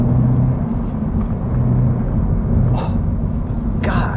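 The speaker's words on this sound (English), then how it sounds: "Makes that typical Subaru boxer noise" A 2024 Subaru BRZ tS boxer engine while driving, a steady low drone and rumble from inside the cabin with a faint hiss of road noise, continuous throughout.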